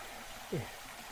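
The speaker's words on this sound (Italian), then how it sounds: "Stiamo arrivando già a un primo piccolo salto d'acqua" A small waterfall in a stream in the park of Castello Aymerich at Laconi gives a faint, continuous rushing wash, with a brief voice rising over it.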